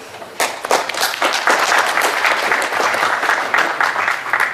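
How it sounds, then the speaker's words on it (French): Audience applause at a football tournament gathering: dense, steady clapping from a sizable crowd that swells quickly after a soft start and holds loud and close throughout. "Donc je pense que rien que pour ça, on peut s'applaudir."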